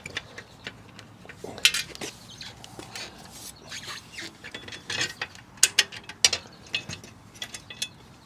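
Small nuts and bolts being worked loose from a bicycle's rear fender give off close, intermittent metallic clicks, ratcheting ticks and scrapes in irregular bursts, with no talking.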